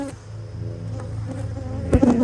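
Honey bees buzz steadily inside an opened beehive, a close, continuous droning hum with a brief louder rustle near the end.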